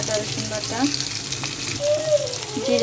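Green chili paste goes into hot oil with browned onions and sesame while cooking cabbage with prawns, giving a loud continuous sizzle with brief stirring, no speech.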